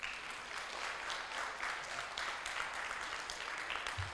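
A seated audience at an oncology summit applauds, a steady, moderately distant wash of many hands clapping without pause for several seconds.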